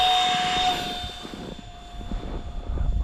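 A small radio-controlled model airplane flying in 3D mode climbs away after takeoff, its electric motor whine steady and fairly loud at first, then settling into a rougher, more distant hum with gusty wind-like rumble.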